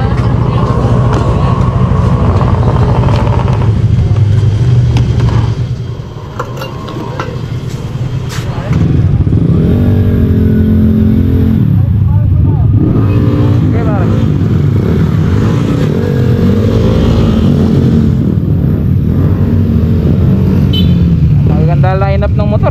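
Motorcycles on a group ride in Dingalan, Aurora, their engines running and revving loudly and close, with people talking over the continuous engine noise.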